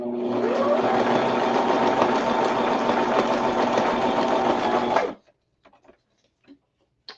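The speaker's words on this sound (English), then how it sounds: "I'm gonna just do a real quick stitch on here" A sewing machine stitches a paper journal tip-in right up close: a loud, steady whir for about five seconds, then it stops and only faint clicks and handling noises follow.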